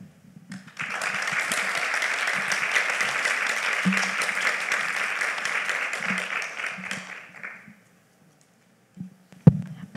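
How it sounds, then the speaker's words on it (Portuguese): Applause from an audience at an academic panel on disability studies, starting abruptly, holding steady for several seconds, then fading out into silence before a brief voice and a thump. "Estava ocupada aplaudindo."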